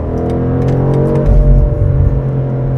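A BMW M850i Gran Coupe V8 in Sport Plus mode accelerates hard, its engine and exhaust roaring loud and close with a rising, throbbing drone and a surge midway, with no talking.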